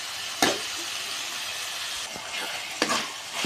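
Eggplant sautéing with ground chili powder in a pan for a Tamil dried-fish thokku sizzles softly and steadily, with a couple of sharp stirring scrapes breaking through the quiet frying hiss.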